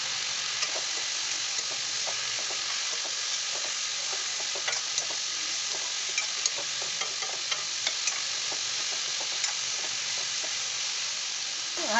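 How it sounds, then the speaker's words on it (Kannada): Mushrooms frying in oil with onion, tomato and turmeric in a pan, a steady bright sizzle with faint crackles and occasional stirring taps, continuous and moderately quiet. "ತೊಳೆದಿಟ್ಕೊಂಡಿರುವಂಥ ಮಶ್ರೂಮ್ ಕೂಡ ಹಾಕ್ಕೊಂಡು ನಾನು ಒಂದು 5 ನಿಮಿಷ ಚೆನ್ನಾಗಿ ಫ್ರೈ ಮಾಡ್ಕೊತಾ ಇದ್ದೀನಿ"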